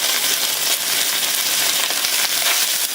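Marinated beef searing in a hot wok for beef chow foon gives off a loud, steady sizzle with a dense, continuous crackle close up, and no talking.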